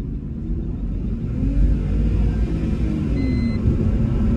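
A repaired car engine with no compression fault now runs smoothly and steadily without misfire, a continuous low rumble at close range with no talking.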